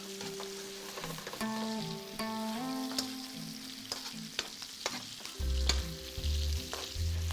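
Steady sizzling of pork loin frying in a pan, with occasional stirring clatter and a low hum, no talking.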